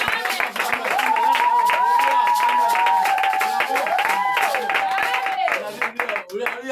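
A church congregation claps and cheers at a French-language Sunday service during a 21-day fast, the clapping blending with loud voices and calls throughout.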